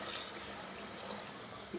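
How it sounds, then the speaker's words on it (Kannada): Water is poured into a cooking pot for mushroom biryani, a faint, steady liquid stream trickling without a break at low volume. "ಈಗ ನೀರು ಹಾಕ್ತಾಯಿದ್ದೀನಿ."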